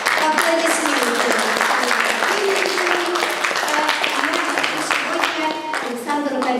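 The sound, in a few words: audience applause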